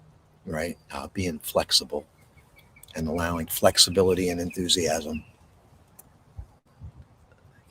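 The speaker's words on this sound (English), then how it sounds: "You hear the birds chirp." Birds chirp outdoors in short, faint bursts, mostly half-buried under someone speaking close by, with quieter gaps between his phrases.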